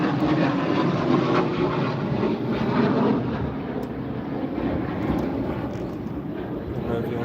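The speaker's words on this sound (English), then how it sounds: "Trainer Jet." Trainer jet passing overhead near a fishing spot, a broad, steady roaring rush that holds loud for several seconds with voices talking over it.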